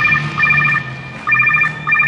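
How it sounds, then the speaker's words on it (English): Loud electronic ringtone from a mega phone in a cartoon, two bursts of rapid trilling rings separated by a short pause, close and piercing with no talk over it. "The deafening ring on that mega phone is sure to annoy."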